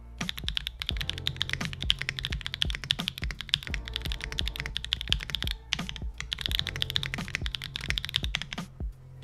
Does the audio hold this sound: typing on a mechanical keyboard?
yes